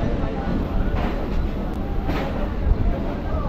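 Inside a crowded local passenger train on the Namkhana line out of Kolkata, a steady rumbling rattle of wheels and carriage fills the space, with a person talking over the continuous noise.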